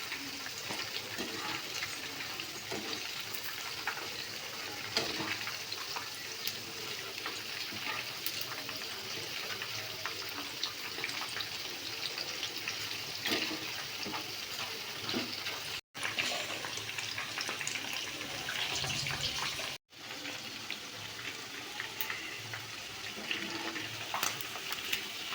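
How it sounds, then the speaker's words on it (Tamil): Pieces of chicken 65 frying in hot oil, half cooked and being turned, give a steady, dense bubbling sizzle that runs without a break for about 25 seconds, with two short gaps near the end. "இப்போ பாதி ஃப்ரை ஆயிருச்சு."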